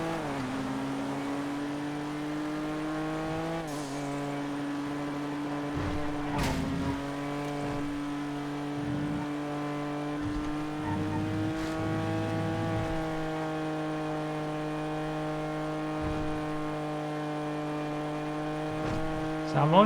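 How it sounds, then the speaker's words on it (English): A Sentinel SG3 Cabrio in GTA FiveM races along, its engine holding a steady mid-pitched drone with occasional shifts and short dips in revs, close and continuous throughout. "This is a cool car, Sentinel SG3 Cabrio."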